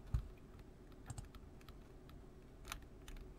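Computer keyboard keys and mouse clicks during photo editing, a few soft scattered taps at close range, quiet and without talk.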